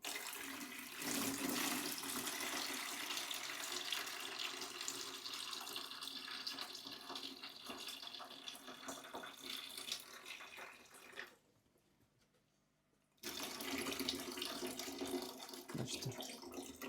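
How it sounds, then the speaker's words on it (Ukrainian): Steady rushing water drains close by from a worm culture tank, briefly stops, then gushes again at full strength. "Так само зливаємо воду."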